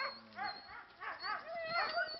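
Several sled dogs howl and whimper together at a musher's kennel, overlapping wavering howls rising and falling close by, with a few yips mixed in.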